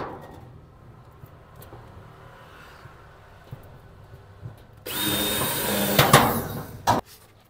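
Power drill driving screws while a 6-door steel locker is assembled, a quiet stretch of light knocks and handling before a loud close whirring burst of about two seconds that ends abruptly with a sharp click.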